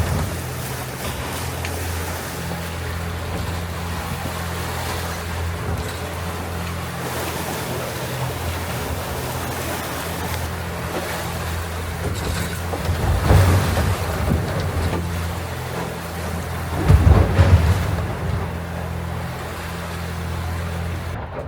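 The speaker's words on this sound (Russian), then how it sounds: "Нас встретил сильный ветер и волнение." Strong wind blows over open sea as waves slosh and break against a boat underway, a steady rushing roar with heavier surges of water near the end, and no talking.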